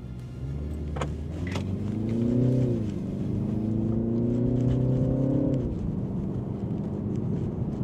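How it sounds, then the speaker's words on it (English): A BMW 330i engine revs hard during a drag race, rising in pitch through two strong pulls with a brief shift between them, heard from nearby. "This BMW really revs high."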